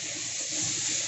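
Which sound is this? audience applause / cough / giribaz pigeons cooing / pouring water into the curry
pouring water into the curry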